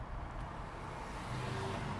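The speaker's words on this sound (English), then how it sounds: "I'm going to let this car pass" A car passes along an Oakland street, a steady low road rumble holding at moderate level throughout, with no voices.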